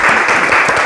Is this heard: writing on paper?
no